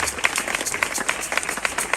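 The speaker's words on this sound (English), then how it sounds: "May God bless those who are clapping." Audience applause honoring a speaker at a leadership session in Kwahu-Bepong: dense, steady clapping from many hands, fairly close and continuous for the whole stretch, with no clear speech over it.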